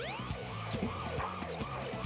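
Police car sirens in the Sonic Adventure video game, a set of rising and falling wails layered over game music and a steady low rumble, sounding continuously and fairly close.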